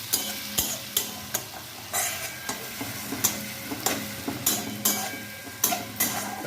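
A spice paste of garlic, chili and cumin fries in a pan while being stirred, with a rapid series of sharp spoon taps and scrapes against the pan over a steady hissing sizzle, close and clear.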